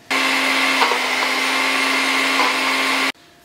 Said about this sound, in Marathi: सगळो मसाला आता आमी बारीक वांटया